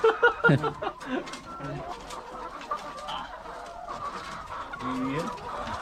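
Chickens cluck and squawk nearby on a farm in short bursts, loudest at the start, with low voices talking softly in the background.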